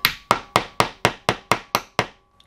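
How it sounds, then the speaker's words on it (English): A spoon knocks a plastic lip into a handmade injured-baitfish fishing lure: nine sharp, evenly spaced taps ring out close and loud, followed by a brief pause and a faint final knock. "I don't advise that you hammer lips into your baits, but just happens to be what I'm doing right now."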